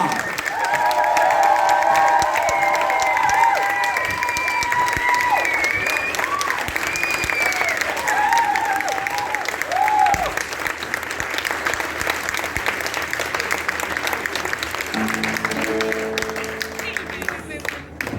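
Audience at a joint concert in Tartu breaks into loud, sustained applause and cheering, with voices calling out and brief musical tones near the end.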